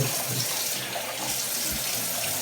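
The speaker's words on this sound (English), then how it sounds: "I get some water on my face, and I get cold water." Tap water runs steadily from a bathroom sink faucet as a face is rinsed with cold water after shaving, a continuous close splashing hiss with no talk.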